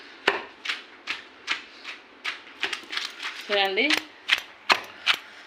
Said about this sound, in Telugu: ఫస్ట్ పచ్చిమిర్చి వేసుకొని ఇంకా అన్నీ దంచుకోవాలి.